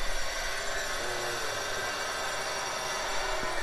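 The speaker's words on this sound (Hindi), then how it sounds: "कंस्ट्रक्शन हो रही है उस घर में" Construction work at a neighbouring house makes a steady, distant grinding and rattling noise like power tools, a constant faint wash with no clear separate blows.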